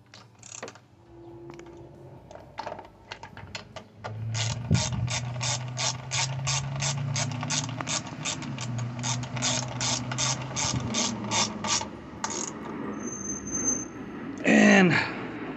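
A ratchet clicks rapidly and repeatedly while tightening carburetor parts on a Toro lawn mower. It begins with sparse clicks, then runs as a long steady series of close clicks under a low background hum, ending with a brief rattle.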